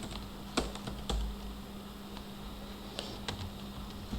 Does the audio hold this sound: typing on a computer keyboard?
yes